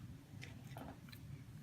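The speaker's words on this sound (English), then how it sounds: "it's actually my cat eating her food" A cat eating her food, with soft intermittent chewing and crunching close by, faint against a quiet indoor hum.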